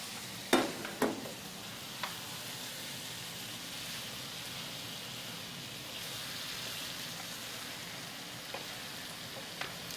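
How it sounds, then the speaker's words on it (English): Jarred tomato basil sauce is stirred into meat in a hot pan, giving a low, steady sizzle. A few sharp scrapes and clicks come from the utensil. "Okay, and stir that around."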